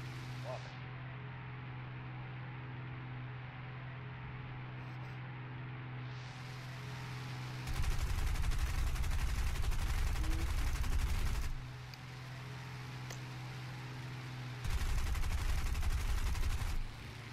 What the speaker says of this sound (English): Oh yeah, the back machine gun.